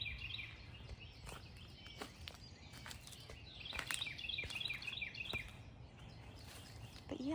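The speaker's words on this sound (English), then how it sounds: "Listen to the birds." Birds sing and chirp outdoors in a garden, with bright repeated calls and trills near and far, louder in the middle stretch, over soft rustling and patter.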